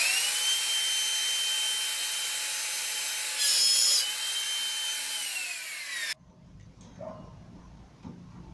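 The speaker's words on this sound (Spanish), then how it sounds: "vas a hacer tu primer ranurado guiándote por esa primera línea" A power router spins a bit through wood to cut a groove, a loud steady whine held for about six seconds before cutting off, followed by quiet handling noises.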